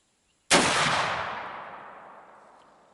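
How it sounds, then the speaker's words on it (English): A single loud report from a Woodman Arms .50 caliber Patriot muzzleloading rifle fired at a target breaks sudden silence, then rolls away in a long, fading echo lasting over two seconds. "Now we're going to sight it on a fresh target and see if we can shoot a group within 6 inches."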